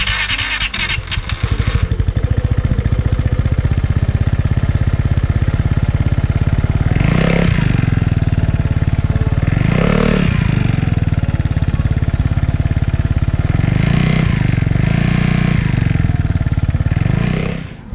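A motorcycle fitted with an Arrow sports exhaust idles loudly up close, its deep throb punctuated by several sharp throttle blips that rise and fall.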